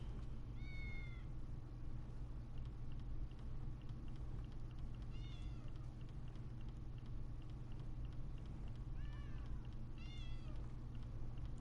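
A pet cat meows several times in the Elder Scrolls Online video game, short rising-and-falling calls spaced a few seconds apart over a steady low rumble of background ambience.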